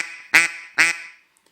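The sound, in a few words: duck call blown to imitate duck quacks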